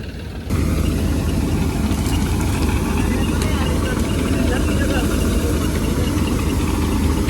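A combine harvester engine runs steadily and loudly while unloading its grain tank during a wheat harvest, a constant close mechanical drone that kicks in after a brief quieter start.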